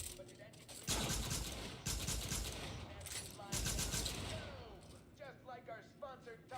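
The Rift gun in Outer Worlds 2 fires a few loud bursts of rapid crackling game gunfire, each blast followed by a short decaying tail, with in-game mechanical and voice-like sounds trailing off near the end.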